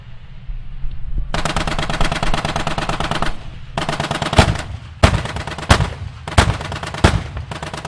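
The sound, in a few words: 30mm cannon and machine gun fire, video game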